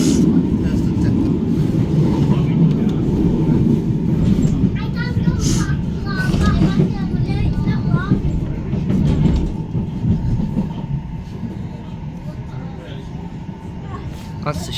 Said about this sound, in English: That's a shitload of trams in the depot.